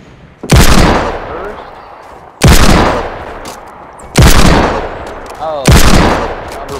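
Four loud revolver shots ring out in Fortnite at roughly two-second intervals, each a sharp close blast followed by a decaying tail, with no talk over them.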